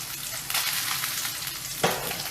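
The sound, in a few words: salmon fillets sizzling in a frying pan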